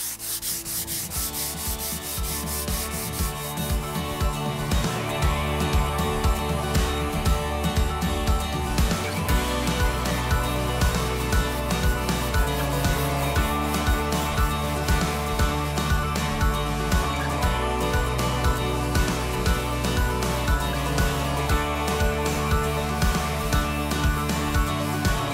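A teak table top is hand sanded with a sanding block. The abrasive rubs in steady back-and-forth strokes that keep a continuous, even rhythm, close and loud, with no one speaking.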